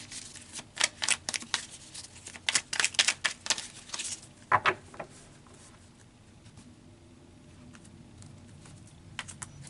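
Tarot cards are riffled and shuffled in quick crisp bursts of slapping and flicking, close and clear, then fall quiet before a few soft card snaps as cards are pulled, with no talking.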